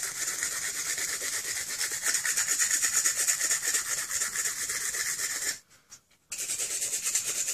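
Steady, rhythmic scrubbing of a green or red abrasive pad across a plastic toy blaster part, close and continuous, with a brief pause before the rubbing resumes.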